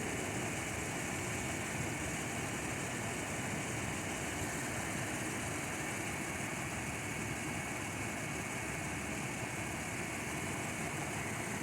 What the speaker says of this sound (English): Just going to let you listen in on the engine.